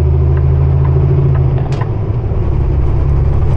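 A car engine gives a loud, steady low rumble from inside the cabin with road noise under it, holding an even drone while overtaking a slow-moving vehicle on a highway near Kamloops, British Columbia.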